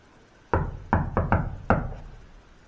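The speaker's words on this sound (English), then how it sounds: "I'm gonna knock on the wall." Five firm knocks on a wall in an old hotel room ring out close and loud in an uneven rhythm, two, then a quick pair, then one, with no talk.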